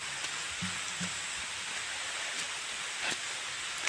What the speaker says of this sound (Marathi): पावसाने पण सुरुवात केला